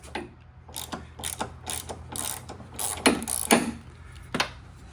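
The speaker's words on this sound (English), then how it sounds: "for these three bolts, size 14 socket, you gotta loosen them up, but make sure you don't completely remove them yet." A socket ratchet with a size 14 socket loosening the strut bolts on a 2007–2011 Toyota Camry, producing rapid close clicking bursts in uneven strokes, with a few louder ratcheting pulls, no talking.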